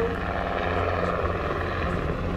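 A Slovak Air Force Sikorsky UH-60M Black Hawk helicopter flies nearby at an air show, with a loud, steady rotor thrum and engine whine that hold evenly throughout and no talking.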